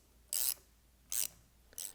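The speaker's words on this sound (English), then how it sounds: "Use the bolts as extraction bolts to pull out the front cover." Front cover of a DESMI ROTAN gear pump being pulled off with set screws used as extraction bolts, giving three short metallic rasping scrapes with pauses between, close and fairly quiet, with no talk.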